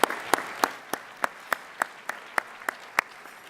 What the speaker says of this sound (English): Let's give each of these mayors a warm round of applause.